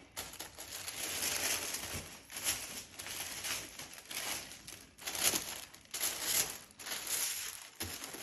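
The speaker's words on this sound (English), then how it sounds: "The sound of this paper is literally the most exciting thing in the world." Paper crinkles and crumples continuously as a Birkin bag is unwrapped, a close, steady rustle swelling and easing in bursts, with no voices.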